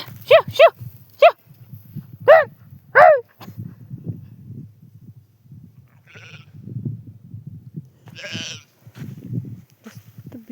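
A flock of sheep bleats close by, with several sharp, wavering calls near the start. Quieter rustling and low background noises follow, with a few faint higher sounds later.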